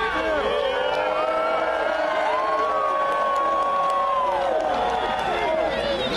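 A large outdoor crowd cheers and whoops steadily at the 128th Groundhog Day trek to Punxsutawney Phil in Punxsutawney, a dense, sustained roar with scattered shouts and clapping, voices blending through the whole stretch.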